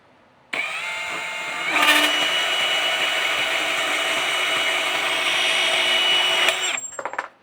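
A power tool cuts down a bolt fastener, a steady high-pitched whine starting abruptly, holding loud and even for about six seconds, then cutting off and spinning down, with no talk.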